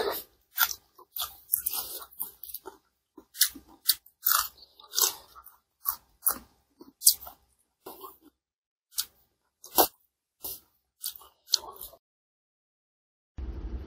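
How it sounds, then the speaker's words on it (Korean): Food is bitten and chewed close to the mic in a series of separate crunchy bites and munches, irregular and loud, with short pauses between them and silence near the end. "자, 먹어보겠습니다."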